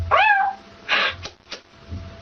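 A voice imitates a cat, giving one rising-falling meow followed by a few short, softer mewing sounds, close and clear against quiet.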